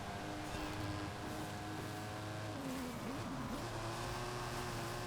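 A Dodge Viper in Forza Horizon 5 runs on a wet road, its engine holding a steady droning note with a wavering pitch swoop midway, continuous and close throughout.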